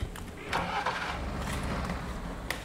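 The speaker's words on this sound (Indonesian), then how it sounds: "jadi alat pengangkat barang ini pakai mesin, terus dia pakai tenaga gas ya guys" A gas-powered goods-lifting machine's engine cranks and catches, settling into a steady mid-pitched running rumble with a few sharp clanks, fairly close and continuous.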